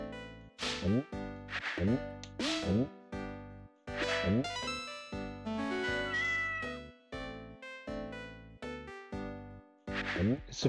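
A cat meows repeatedly in clear, close, pitched calls with short gaps between them, some drawn out and wavering, loud against otherwise quiet surroundings.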